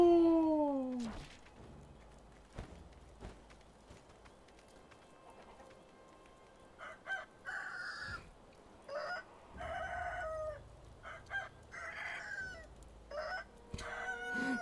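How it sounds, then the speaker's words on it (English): Chickens cluck and a rooster crows in Sekiro: Shadows Die Twice, a series of short bird calls rising in bursts over quiet ambient game background, fairly close and moderately loud. "Sneak up on the chicken."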